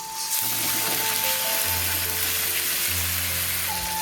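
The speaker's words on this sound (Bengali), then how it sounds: "ভালো করে লাল লাল করে পেঁয়াজগুলো ভেজে নিতে হবে। তারপরে দিয়ে দিচ্ছি আদা রসুন পেস্ট" Chopped onions and ginger-garlic paste fry in hot oil in a pan for a Bengali mocha dish, a loud, steady sizzle with no talk over it.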